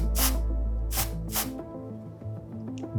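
Short bursts of Atmosphere Aerosol haze spray hiss from a can, three quick sprays in a row, faint against a low steady background hum.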